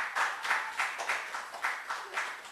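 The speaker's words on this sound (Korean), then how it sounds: "박수 한번 쳐주세요" A church congregation at a special forty-day prayer meeting claps in a steady rhythm of about eight even beats, moderately near, with faint background voices.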